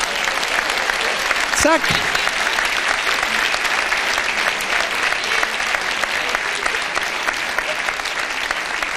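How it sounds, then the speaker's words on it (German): A comedy-show audience breaks into sustained applause, dense and steady throughout, while a man briefly calls out a word near the start. "das ist Ihr Applaus"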